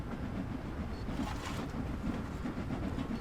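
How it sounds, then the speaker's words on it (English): A passenger train in Train Sim World 2, on the Liverpool Lime Street to Chester run, rumbles steadily while slowing on an incline, with a rhythmic wheel clickety-clack under a continuous low drone, fairly quiet. "Now the train is going to slow down"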